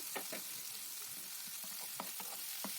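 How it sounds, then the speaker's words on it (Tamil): Finely chopped half of a medium tomato sautés in a pan for ragi upma, giving a steady close sizzle and crackle throughout, with a few sharper pops and spatters standing out. "ஒரு மீடியம் சைஸ் தக்காளியில் பாதி தக்காளி வந்து நான் கட் பண்ணி போட்டிருக்கிற பொடியாக நல்லா வதங்கட்டும்"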